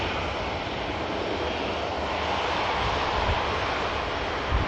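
An Airbus A350 airliner on the runway at Manchester Airport gives a steady, loud broadband engine roar that holds without a break for the whole stretch.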